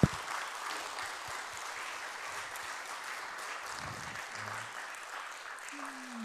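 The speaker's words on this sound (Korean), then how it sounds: "우리 모두를 위해서 박수 한번 치고 시작할까요?" An audience at a baroque chamber string concert gives a steady, even round of applause, fairly distant and soft, with a few brief voices underneath.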